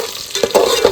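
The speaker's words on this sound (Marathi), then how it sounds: "इथे लसूण कढीपत्ता आणि मिरची टाकल्या तेलात फोडणी दिली" Garlic, curry leaves and chilli hit very hot oil for a crab curry tempering over a wood-fired stove, a bright crackling sizzle with a few sharp spatters.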